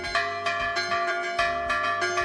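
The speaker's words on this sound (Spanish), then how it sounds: "está Fermín, que lleva más de 30 años está haciendo este toque de campana" A hand-rung church bell in the village of Puebla del Prior strikes in a quick, lively rhythm, several clanging peals with ringing overtones that overlap and fade, heard alone at a moderate distance.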